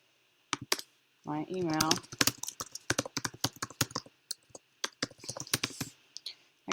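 Rapid clicking of computer keys as a username and password are typed, crisp irregular bursts close by, with a short stretch of speech near the start.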